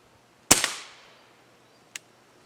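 A single sharp crack from a pellet rifle, loud and close, with a short ringing decay, followed about a second and a half later by a fainter click or impact.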